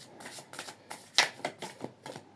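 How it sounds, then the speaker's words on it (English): Angel Tarot cards shuffled by hand in a quiet room, a run of soft papery riffles and slaps in uneven bursts, one sharper flick near the middle, close and fairly quiet with no talking. "I'm going to pull one last card of the Angel Tarot"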